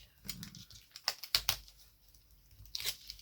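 Paper torn by hand for an advent calendar: a few sharp ripping bursts near the middle, with softer crinkling before and a last tear toward the end, close and fairly quiet with no talk.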